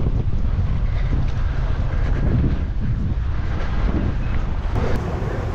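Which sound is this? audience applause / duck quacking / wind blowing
wind blowing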